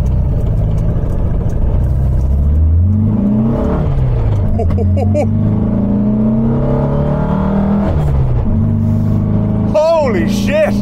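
A 1974 VW Super Beetle with a 1915cc engine accelerating on the road, its mid-pitched engine note climbing and shifting through gears, loud and close from inside the car, with a person talking over it.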